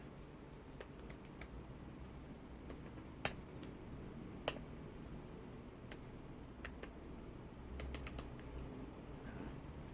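Keys on a Lenovo Ideapad 11iBY plastic notebook keyboard are tapped during login, producing sparse, faint, sharp clicks spread across a quiet room hum, with a couple of louder strikes and no talking.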